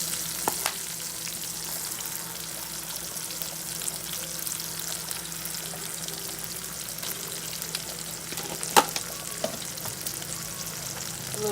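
Red and green onions fry for gravy in a pan over high heat, a steady, fairly quiet sizzle and crackle with occasional light utensil clicks.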